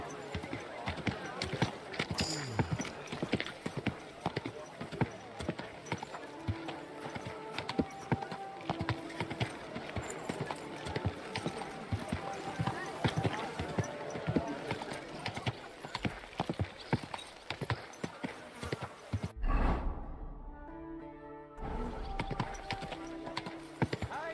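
A horse in Kingdom Come Deliverance II clip-clops along at a steady walk, hooves clattering close and continuous, with a whinny near the end and brief spoken lines from characters over it.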